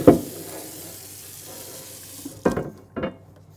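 Hot water hits a hot cast iron Yoder Smokers griddle, giving a steady hissing sizzle with a few sharper bursts of spattering near the end, close up with no voices.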